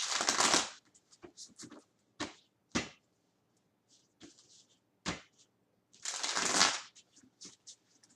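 Tarot cards are shuffled and drawn close up, with two soft riffling bursts at the start and end and scattered light flicks, slaps and taps of cards being pulled and laid down in between.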